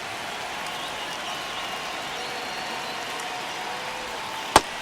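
A baseball crowd in MLB The Show 25 keeps up a steady, even roar of applause and cheering through a tense ninth inning, ending with a single sharp crack.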